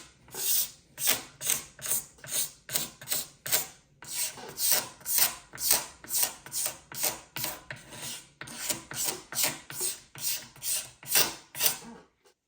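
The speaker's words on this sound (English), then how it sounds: "The curved surfaces just allow the scraper to kind of dig in more." Rapid rhythmic scraping of a scraper stripping poly finish down to bare wood on a curved Fender Jazz Bass neck, dozens of short rasping strokes in steady bursts, close and fairly quiet with no voices.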